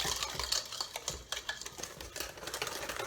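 Cornbread muffin batter whisked in a bowl, with rapid, irregular clicking and scraping strokes of the whisk against the bowl running continuously and close up.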